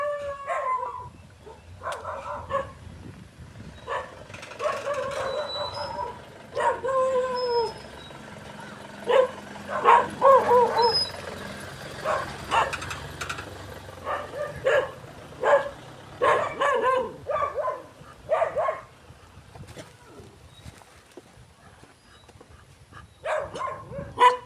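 Several dogs bark, yip and howl at a house, an excited overlapping chorus lasting throughout, fairly near, with no talking.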